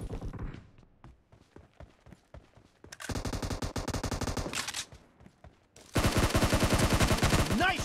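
Gunfire in a team deathmatch shooter game: scattered single shots early, then two dense bursts of rapid automatic fire, the last loud and sustained.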